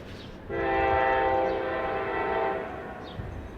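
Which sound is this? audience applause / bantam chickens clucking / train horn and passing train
train horn and passing train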